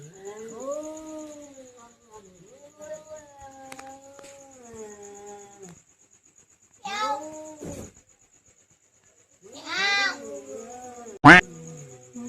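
Several drawn-out cat meows and a yowl, close and fairly loud, separated by short pauses, with a voice in between.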